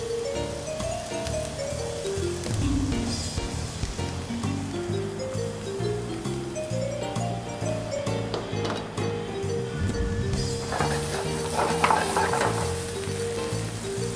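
Spinach, onion, garlic, tomato and diced feta cheese sizzle steadily in a saute pan while being stirred, with scraping and clattering of the utensil, faint background music and no talk.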